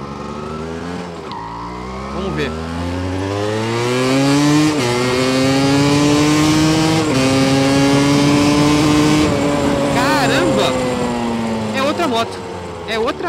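A Yamaha DT motorcycle engine, still misfiring slightly at low revs, revs up and down repeatedly up close, its pitch climbing and falling through several loud surges, with a voice talking briefly underneath.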